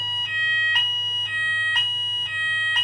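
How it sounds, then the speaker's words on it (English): A fire alarm sounding during a test, loud repeating electronic tones pulsing in regular beats about half a second apart over a low steady hum, with no one speaking. "that was my fire alarm."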